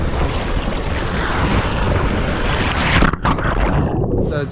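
Water rushes and churns loudly and continuously on the River Rapids ride at the Wet n Wild theme park on the Gold Coast, mixed with heavy wind buffeting close to the mic, then briefly dips before surging again.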